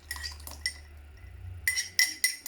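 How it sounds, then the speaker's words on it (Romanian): A utensil clinks and scrapes against a bowl while stirring a tiramisu ice cream mixture, in two short clusters of light metallic taps separated by a quiet pause. "Și amestecăm iar bine."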